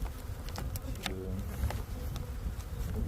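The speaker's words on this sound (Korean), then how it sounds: "벌통 뚜껑이 날아갔는데 그래도 우리 꿀벌들이 얌전히 잘 있습니다" Honeybees buzz around a hive whose lid has blown off in strong wind, a steady soft hum of many wings close by with individual bees zipping past the mic and faint rustling.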